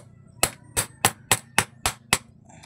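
Seven sharp metallic hammer strikes on a flat screwdriver while loosening a single-tub washing machine motor, evenly spaced and fairly loud, ringing briefly against a quiet low hum.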